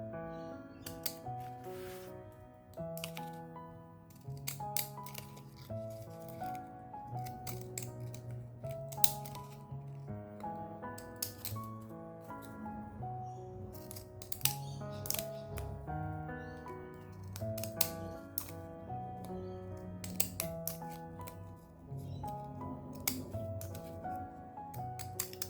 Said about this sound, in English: I can make them more interesting by cutting them like that.